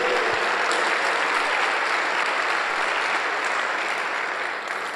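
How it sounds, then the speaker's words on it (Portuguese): A church congregation at a pastors' gathering breaks into steady, full applause, a dense wash of many hands clapping that carries evenly and tapers slightly at the end. "Dá um aplauso ao Senhor Jesus."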